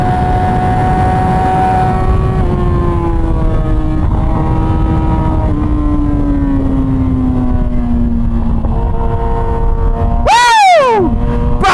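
Yamaha R6 sport motorcycle being ridden: a loud, steady engine howl with rushing wind whose pitch slowly drops through several seconds, then a quick rising and falling rev near the end.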